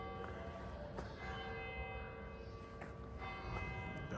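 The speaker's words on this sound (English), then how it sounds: "Bells are ringing in the background." Church bells ring near the Iglesia San Pedro in Viana, Spain, with several spaced metallic strikes and long ringing tones, faint and distant against quiet background.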